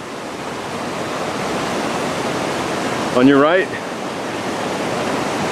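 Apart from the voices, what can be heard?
San Gabriel River forks flowing and merging after rains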